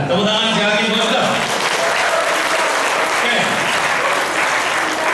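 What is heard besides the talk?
applause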